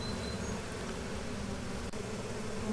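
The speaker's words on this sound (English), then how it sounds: "if we look at the several thousand bees that are in this basket" A dense, steady buzz of several thousand honey bees from a swarm gathered in a basket, loud and continuous throughout, with no talking.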